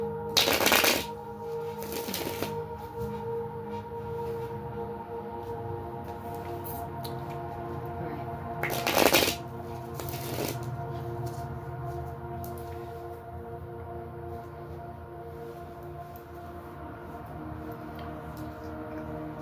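A deck of cards is shuffled in crisp bursts, first near the start and again around the middle, over a quiet hum and faint background noise, with no talking.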